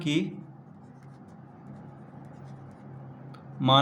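Writing by hand for a maths lesson, soft steady scratching strokes running for a few seconds, with brief bits of a man's speech at the start and end.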